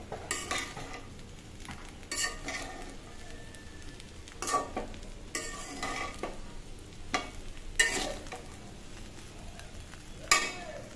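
Hot oil sizzling softly in a pan before an egg goes in, with a continuous low crackle and a few louder bursts of clatter and stirring spread through the span.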